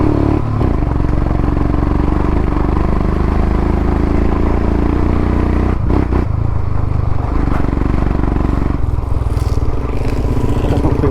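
Off-road vehicle grinding along in first gear through a coffee estate, a steady loud engine drone with clattering and scraping bumps throughout and no talk.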